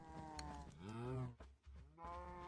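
Cows mooing in the video game Minecraft, several drawn-out lowing calls close together, loud and clear with a short gap between them and no talk over them.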